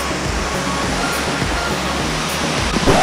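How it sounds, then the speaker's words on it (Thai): Steady, dense roar of a waterfall crashing close by, a constant broadband rumble without pause, near Chiang Mai. "มาถึงน้ำตกไซย้อยอย่างเต็มตัวแล้วนะครับนี่ไกลที่สุดเท่าที่จะใกล้ได้แล้วนะครับ"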